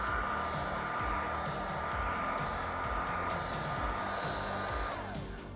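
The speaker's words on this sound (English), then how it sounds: "Keep the heat gun moving." Heat gun on a low setting blowing over vinyl wrap film on a Tesla Cybertruck, a steady close whirring roar with a constant whine that drops away as it powers down at the end.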